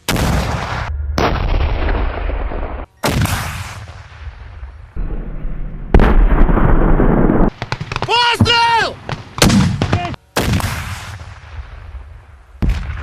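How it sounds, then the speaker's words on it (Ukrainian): Loud blasts of gunfire hit with sharp onsets, several heavy bursts in a row. A brief high tonal sound rises between them midway. "Постріл!"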